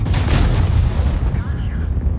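A tank cannon fires in the World of Tanks video game, giving a single loud, heavy boom whose rumble carries through the whole moment.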